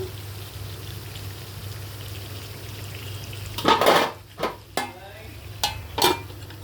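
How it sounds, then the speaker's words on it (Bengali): Chicken stirred and braised in a pan over low gas heat, with a few scraping, clattering stirs and a brief hiss arriving midway over quiet background hum; no talking. "মুরগিটা অনেক সুন্দর কষানো হইতেছে।"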